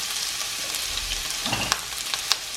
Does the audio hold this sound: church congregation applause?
no